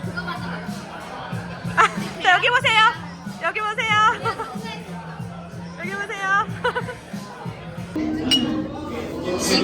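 A birthday toast with Jinro Zero Sugar soju, glasses clinking a few times amid lively chatter and overlapping voices at a gathering.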